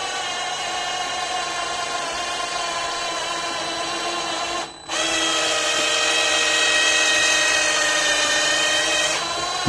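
Power polisher buffing abrasive compound into fresh paint on a Tango Hugger fender: a steady, loud, close whine that holds for nearly ten seconds, with one brief dip partway before it resumes slightly stronger.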